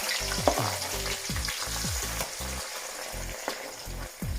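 Sweet peppers, tomatoes and onions fry in hot oil for ackee and saltfish, a constant close sizzle broken by rhythmic scraping and stirring strokes of a utensil against the pan.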